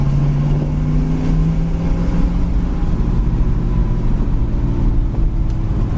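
A 1965 Ford Mustang GT runs smoothly on the road, its engine a steady, subdued hum with a faint rising tone and low road rumble throughout, no voices heard.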